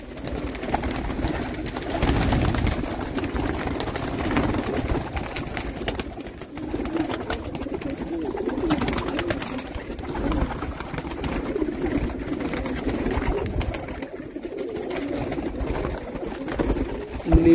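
Red-eyed pigeons let out of their cage coo at a pigeon sale in Jammu, with steady, overlapping soft cooing all the way through against a constant background murmur.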